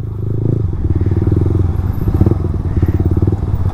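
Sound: Royal Enfield Himalayan 411cc motorcycle riding

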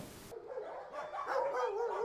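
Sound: dogs barking at an animal shelter

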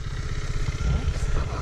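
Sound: drone flying

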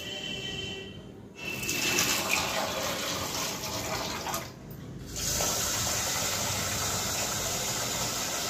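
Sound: rice-washing water being poured onto a tree

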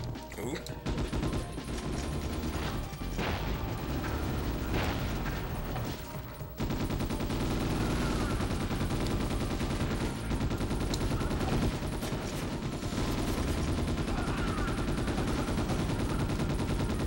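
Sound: shotgun gunfire in the video game Ghost in the Shell: S.A.C

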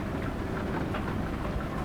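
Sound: rain falling in Euro Truck Simulator 2 video game

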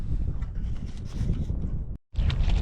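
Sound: strong wind at night while fishing

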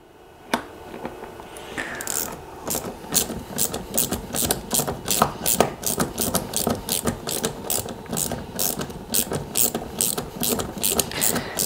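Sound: ratchet with 10 mm socket tightening a bolt

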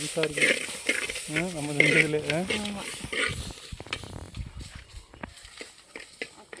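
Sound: sautéing curry vadagam with dried red chillies, coconut and tamarind

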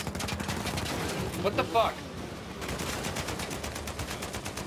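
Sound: gunfire in the video game Uncharted 4

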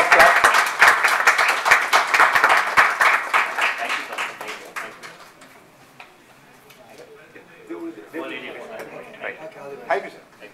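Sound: audience applause

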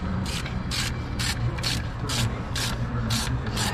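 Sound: ratchet with 10 mm socket tightening bolts

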